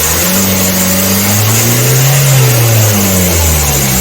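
Car with a faulty turbo revving as the accelerator pedal is pressed, a loud close engine rising in pitch then falling back, held steady in between.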